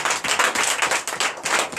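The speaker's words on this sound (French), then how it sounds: "Donnez l'acclamation à leur famille" A church congregation at a Sunday service in Comè, Benin, claps in quick rhythmic bursts, loud and steady throughout with no talking.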